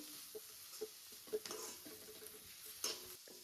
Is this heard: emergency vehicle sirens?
no